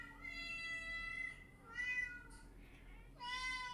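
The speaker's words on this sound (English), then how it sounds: "the one cat always tries to bite me" Several meows from a cat, three separate calls spread across a few seconds, moderately loud and close, with no talk over them.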